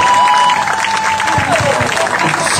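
A crowd at an outdoor event in Petritoli applauds and cheers for a horseman, clapping under voices and a faint whistle-like tone.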